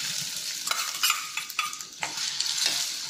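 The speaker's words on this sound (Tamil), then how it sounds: "ஒரு பெரிய வெங்காயம் பொடியாக கட் பண்ணி வச்சுருக்கேன் அதை அதில் சேர்த்துட்டுலாம்." Finely chopped onion sizzles and crackles in hot coconut oil in a kadai, with a steady frying hiss broken by several louder scraping stirs of a spoon.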